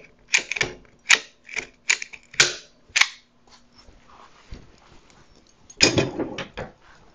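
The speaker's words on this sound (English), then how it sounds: "Use my fancy zip tie gun." A zip tie gun tightens and trims a zip tie on a brake collar while an Aventon e-bike's Zoom hydraulic brakes are bled. It gives a series of sharp, close ratcheting clicks, then a pause and a final burst of clicks.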